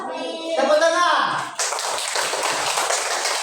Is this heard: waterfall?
no